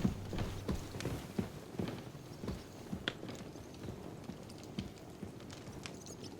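Horse hooves walk at an unhurried pace in Kingdom Come Deliverance 2, each clip-clop step distinct and fairly close, set against quiet outdoor ambience with no talking.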